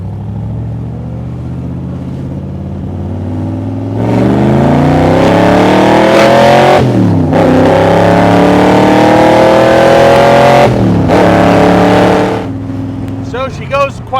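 A 2007 Superformance AC Shelby MKIII 427 Cobra's V8 rumbles steadily from inside the car while driving, then climbs in pitch through two revving accelerations with brief gear-change dips, loud and close, with talk over it.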